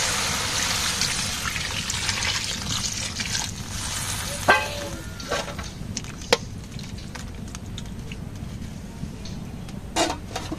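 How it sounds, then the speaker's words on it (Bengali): Broth pouring into a pan of sautéed vegetable curry, a steady liquid trickle and splash that runs across the clip with a few small clinks. Faint voices can be heard in the background. "সবজি কষানো হয়েছে, এখন ঝোল দিয়ে দেন।"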